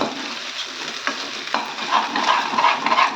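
Ginger sautéing in hot oil for a pickle, a close bubbling sizzle with a few spatula knocks and scrapes that grows busier and louder toward the end.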